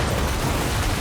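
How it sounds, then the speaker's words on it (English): A grenade blast in Death Stranding 2, a dense, sustained roar of rumbling explosive noise filling the whole second, loud and close with no speech over it. "Oh, grenades!"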